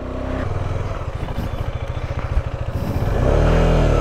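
Motorcycle engine chugging in low gear up a steep hill road near Darjeeling, a loud close pulsing thump that rises into a steadier revving drone near the end, no talk.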